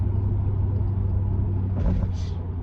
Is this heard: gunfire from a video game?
no